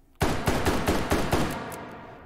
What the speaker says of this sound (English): Let's do a recoil test. 357 Magnum, 6 rounds.